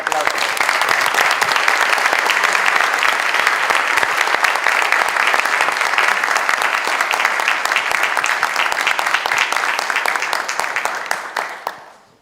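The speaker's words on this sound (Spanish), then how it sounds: "Un aplauso." Sustained applause from a conference audience welcoming a keynote speaker, dense and even clapping for about twelve seconds before fading out at the end.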